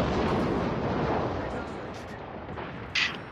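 Naval artillery fires in the World of Warships video game, heard as a heavy rumbling barrage that fades over a few seconds, ending in a sharp burst, with a voice speaking over it.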